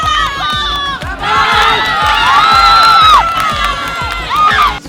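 Friends and spectators shout, whoop and cheer loudly and continuously at a CrossFit competition, a dense crowd roar with rising calls layered over one another for the whole stretch.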